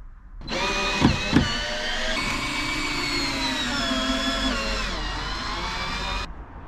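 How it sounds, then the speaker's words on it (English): A power drill drives fixings into the living area of a Peugeot Boxer L2H2 campervan conversion: a loud, close motor whine that starts abruptly, shifts pitch and holds for several seconds before cutting off. "I'm quite happy to actually just get that drilled into place."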